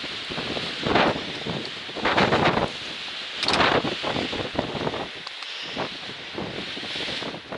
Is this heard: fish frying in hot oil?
no